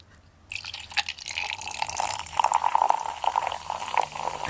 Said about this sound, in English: Pour my drink.